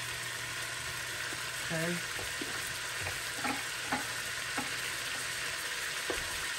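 Fresh onions fry in a pan alongside lamb, pork and chicken: a steady sizzling hiss runs under a few quick stirring knocks, with brief talk over it.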